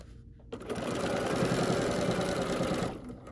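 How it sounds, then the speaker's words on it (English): A Bernina L 850 overlocker runs in one steady, loud mechanical whir for about two and a half seconds while sewing from corner to corner, starting and stopping abruptly. "And I'm just going to sew from one corner to the next corner."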